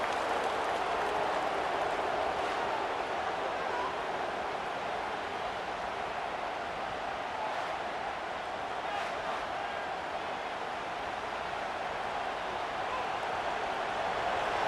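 A crowd at a high school football game between JCM and Jackson Christian School makes a steady, distant wash of roaring noise that holds at an even level throughout, with no clear individual voices.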